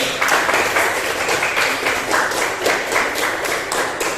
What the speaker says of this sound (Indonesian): Betul, tepuk tangan dulu.